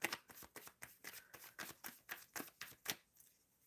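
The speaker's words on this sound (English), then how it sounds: "I'm shuffling for Sagar." Tarot cards are shuffled up close in a quick riffling rhythm, a run of about a dozen crisp flutters over several seconds before fading out, with no talking.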